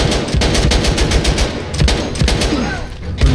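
Rapid bursts of machine-gun fire in the Battlefield 1 video game, loud and close, with dense repeated shots rattling steadily throughout and no talking.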